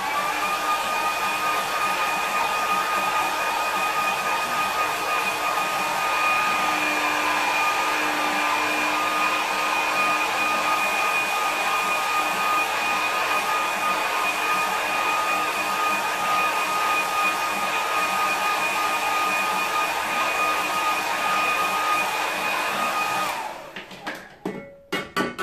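Hair dryer blowing steadily on a watercolour painting of an autumn stream, a loud continuous whirring whine that runs unbroken for over twenty seconds, then clicks off near the end.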